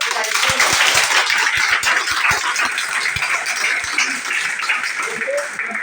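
Audience clapping loudly at a gathering in a marriage hall, a dense burst of applause with some individual sharp claps standing out and talk underneath.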